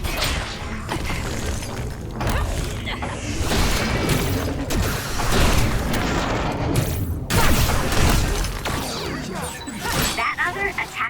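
Enemy explosive attacks in the action game Scarlet Nexus erupt as a dense run of booms, thuds and crashes layered with combat effects and game dialogue, loud and close throughout.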